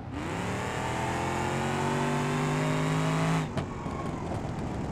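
A car engine revs in the BeamNG.drive game, rising steadily in pitch and volume for about three seconds before cutting off abruptly into a low idle rumble.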